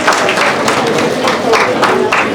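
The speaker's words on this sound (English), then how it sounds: "Dear parents, please give them a big round of applause." Steady applause from an audience, a dense crackle of many hands clapping together without pause, fairly loud and close.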